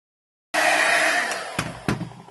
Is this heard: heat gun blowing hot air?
yes